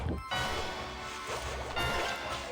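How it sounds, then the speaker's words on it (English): In the Cookie Run video game, a character smashes straight into a small obstacle with a sharp crash at the start, followed by a brief swooshing tail. "I smashed straight into that little obstacle"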